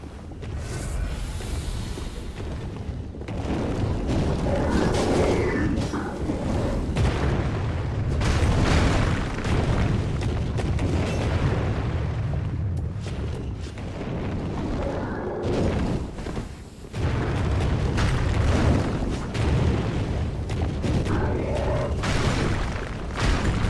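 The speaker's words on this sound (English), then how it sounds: "Not while that fire pot is shooting pot shots at me" A fire pot in Dark Souls 3 lobs explosive shots, bringing repeated heavy booms and rumbling blasts that swell and fade over a sustained, noisy stretch of game combat.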